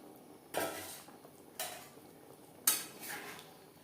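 A spoon scrapes and clanks against a pot three times as fried rupchanda fish pieces and fish heads are stirred into curry gravy, close and fairly quiet.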